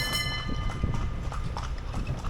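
Hooves of a carriage horse clip-clop steadily in Lampang, a close, continuous rhythm of hoof strikes over the steady rumble of wheels and street noise, with no talking.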